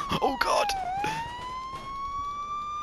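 A police car in the Police Simulator video game wails with a continuous siren that sweeps down and then climbs again. Brief bursts of talking sit over the start of the siren.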